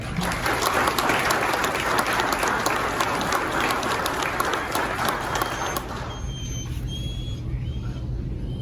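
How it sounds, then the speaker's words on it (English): Sustained applause from a seated audience at a county sheriff's department promotion and awards ceremony fills a large hall, loud and steady for about six seconds before fading to room tone. "A round of applause for Sergeant."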